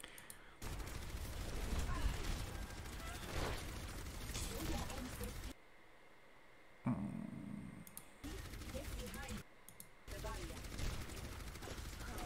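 Gunfire from the video game Overwatch, sustained rapid shooting at a statue during a Zarya and Orisa match, with brief pauses, under a voice talking.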